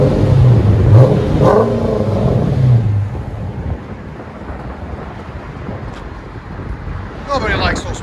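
A Dodge Challenger with a 5.7L HEMI and Flowmaster FX exhaust gives a deep, loud rev that fades into an idling rumble with wind noise. A brief second rise comes near the end.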